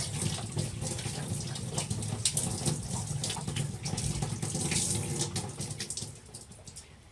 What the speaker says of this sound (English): I'm going to pour it into the sink.